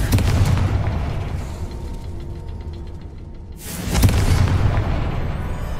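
In the video game Hogwarts Legacy, a Confringo fire spell explodes with a loud, rumbling boom, then the blast fades out and a second heavy burst lands about four seconds in.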